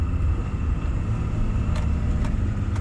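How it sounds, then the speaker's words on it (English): Engine of a first-generation Cummins truck revving under partial throttle, a steady low rumble that fills the clip continuously at close range, with no talking over it. "So let's give it some throttle here."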